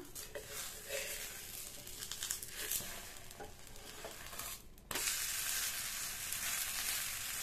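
A wheat dosa sizzles on a hot pan after being flipped, with light scraping and pressing sounds at first, then a sudden louder, steady hiss of frying that continues to the end.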